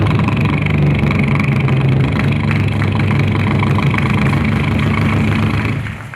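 A mimic at a school arts festival voices a boat engine as a steady, loud, low throbbing drone. It holds evenly for about six seconds and then fades out.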